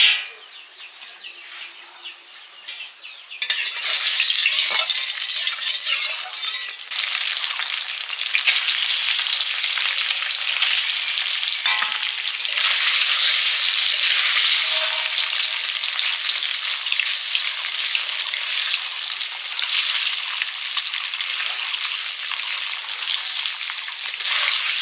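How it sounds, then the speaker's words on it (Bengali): Paneer fries in ghee in a wok, sizzling loudly and continuously up close after a quieter opening few seconds, with occasional stirring and no talking. "কড়াতে ঘি দিয়েছি, পনিরটা ভাজবো।"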